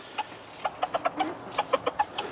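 Chickens cluck in a series of short, soft calls in an irregular rhythm, close by, with no talking.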